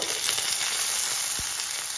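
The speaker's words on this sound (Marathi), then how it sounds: "तेल गरम झालं की थोडं जिरं, मोहरी," Cumin, mustard seeds and garlic sizzle in hot oil, giving a close, loud, continuous crackling hiss with small pops and no pause.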